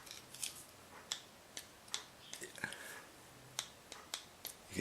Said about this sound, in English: You can hear it clicking. It turns freely.